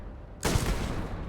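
A shotgun blast hits a creature in Starfield: a single sharp, loud report bursts out of quiet and tails off into a short rumble.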